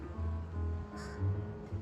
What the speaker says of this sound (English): Crows were happy about that.